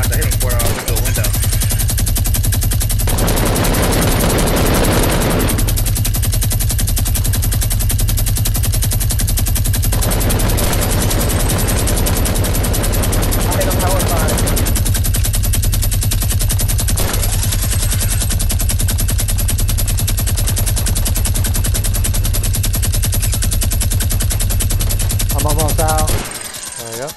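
Sustained automatic gunfire in a video game shootout, loud and dense, rolling on almost without pause for the whole stretch, with a brief lull near the end.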